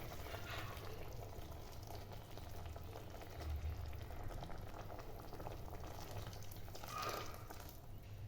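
A soft, continuous bubbling simmer of Kerala chickpea curry in a covered pot, low and steady, with faint kitchen noise and no speech.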